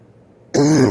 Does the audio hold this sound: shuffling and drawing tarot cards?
no